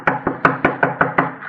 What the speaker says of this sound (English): I knocked politely.